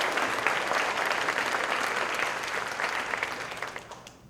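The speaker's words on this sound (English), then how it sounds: "Let's give Abby Murray one more round of applause," An awards ceremony audience gives a sustained round of applause, dense and even for several seconds before tapering off toward the close.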